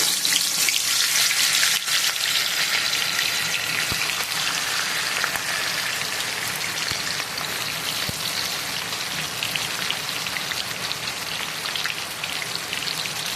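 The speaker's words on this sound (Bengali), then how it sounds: "মাছের মাথাগুলো আমরা ভেজে নিচ্ছি।" Rohu fish heads frying in hot oil, a dense, even crackling sizzle close by that carries on without a break.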